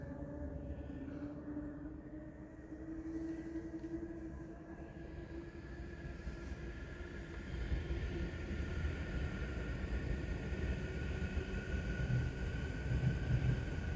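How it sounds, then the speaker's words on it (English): A train rumbles past close by. The rolling, steady roar builds and grows louder partway through, with a faint tonal whine riding on top and no voices. "Can you hear the train?"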